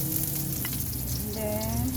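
Onion frying in a pan for sotanghon soup, a steady loud sizzle with faint utensil scrapes, close and continuous throughout.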